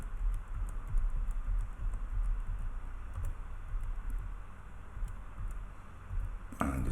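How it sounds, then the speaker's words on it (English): Steady, quick typing on a computer keyboard as a test Visa card number is entered, soft close clicks running continuously with no talk. "here I enter the test Visa card number"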